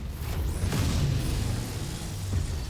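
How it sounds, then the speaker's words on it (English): A mech's ammunition cooks off in the MechWarrior 5 video game, a loud, continuous deep rumbling blast that swells and rolls for a couple of seconds amid battle noise. "Ammo explosion, nice."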